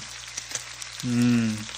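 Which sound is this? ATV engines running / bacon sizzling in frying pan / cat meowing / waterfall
bacon sizzling in frying pan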